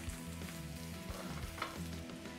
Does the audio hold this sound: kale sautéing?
yes